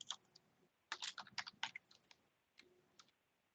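Quiet typing on a computer keyboard: a short burst of rapid key clicks followed by a few scattered taps, close and soft with no talking.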